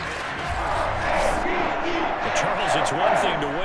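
Stadium crowd roaring and cheering after a touchdown in the video game Madden NFL 22, a sustained loud wash of voices with chanting swells beneath commentators talking.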